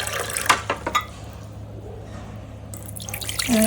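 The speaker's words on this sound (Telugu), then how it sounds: "ఫస్ట్ అయితే ఇలా వాటర్ వేసుకోవాలి" Water splashes and drips briefly into a bowl, then fades to near quiet before another short pour at the end.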